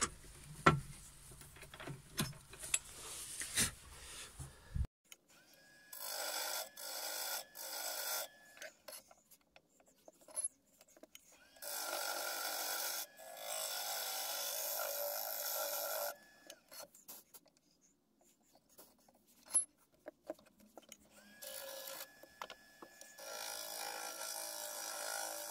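Wood turning on a lathe, with chisels cutting a tealight holder, gives repeated rasping, scraping bursts separated by quiet gaps, close and fairly loud, after a few seconds of knocking and handling noise.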